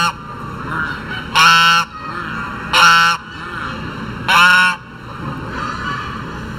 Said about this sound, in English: That is an authentic goose sound.